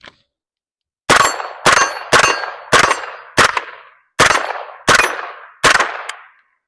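Eight sharp, loud shots from a Palmetto State Armory JAKL rifle ring out at uneven intervals, each followed by a ringing metallic clang from steel targets.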